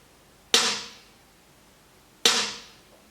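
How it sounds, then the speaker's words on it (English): A trap snare drum sample struck twice, about a second and a half apart; each hit is a sharp, bright crack with a noisy tail that fades quickly, heard alone and dry. "and this is the second snare."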